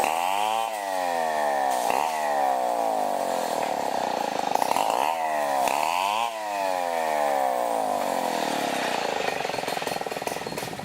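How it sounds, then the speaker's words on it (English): A chainsaw saws through pieces of same-size lumber, its loud engine running steadily throughout and rising and dipping in pitch several times as the chain bites into the wood and is eased off. "So he just cut up several different pieces of the same size lumber with a chainsaw."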